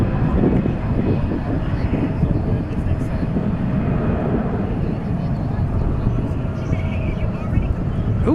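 A Qantas airliner prepares for takeoff at DFW airport, heard as a continuous low jet-engine rumble at a distance. Speech from a nearby observer sits on top of the rumble.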